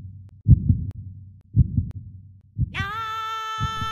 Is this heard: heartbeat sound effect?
yes